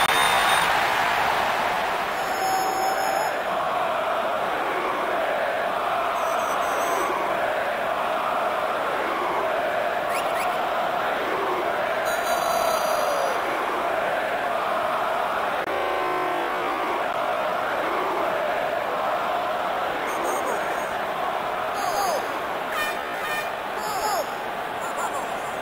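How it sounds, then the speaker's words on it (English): A large, noisy football crowd fills an imposing Serie A stadium before a Napoli match, with a dense, steady roar of chanting and babble and occasional horns over the whole stretch, while a commentator talks over it. "It's a really imposing arena here, the crowd so noisy and indeed animated."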